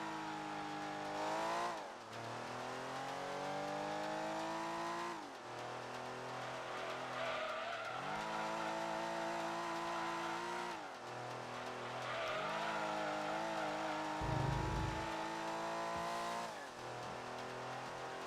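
A Gran Turismo 2 race car engine revs up and drops through gear changes on a B-class licence test, with repeated tire squeal and skidding as it brakes and corners, loud and continuous.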